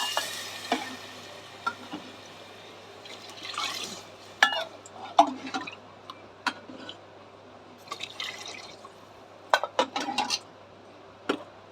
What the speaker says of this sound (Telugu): 4 గ్లాసులు వాటర్ అయితే వేసుకుంటా